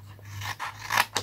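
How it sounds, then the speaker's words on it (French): Scissors snip through fabric for a shabby-style pouch, several close, rasping cuts in quick succession over a low hum. "Un ciseau."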